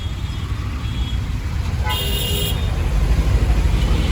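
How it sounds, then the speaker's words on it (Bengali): Heavy night traffic jam on a Dhaka road: a constant loud rumble of engines and road noise, with one car horn tooting for about half a second in the middle. "প্রচণ্ড জ্যাম"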